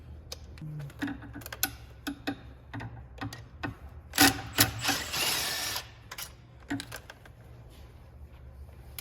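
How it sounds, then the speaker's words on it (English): Injector bolts on a BMW 335i are cracked loose with an external Torx size 10 socket, giving faint scattered ticks and clicks of the tool, with a louder ratcheting burst in the middle. "So it's going to be an external Torx size 10 for the injector bolts. So I'm just going to crack them."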